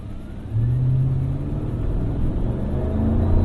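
A 2012 Cadillac Escalade Hybrid SUV accelerates, its engine and exhaust rising from a low idle hum into a steady, firm drone about half a second in, heard close from inside the vehicle with no talking.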